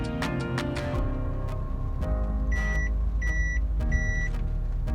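A Perodua Axia sounds its warning chime while rolling in first gear with the handbrake pulled up one click, a series of repeated, evenly spaced electronic beeps over the low hum of the idling engine inside the car.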